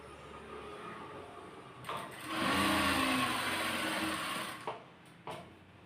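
A sewing machine runs a short, fairly quiet burst of stitching along the folded hem of a nightie, with soft handling clicks before and after the run.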